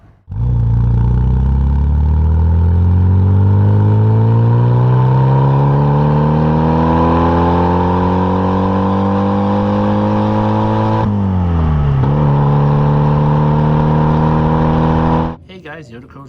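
A rally-prepared 1996 Rover Mini 1.3i engine pulls hard and loud through a long rising rev, drops briefly at a gear change, climbs again, then cuts off near the end.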